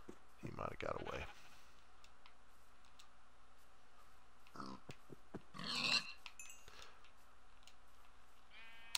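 A few scattered sheep bleats in Minecraft on Xbox One stand out over a quiet background, with occasional clicks and a person speaking briefly.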